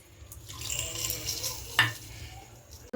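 Khichuri stirred in a pot after water is poured in gives a gentle wet swishing with faint bubbling and a single sharp utensil clack near the end.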